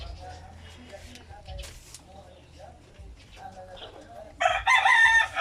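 Low farmyard murmur with soft clucks, then a loud rooster crow rings out close by near the end.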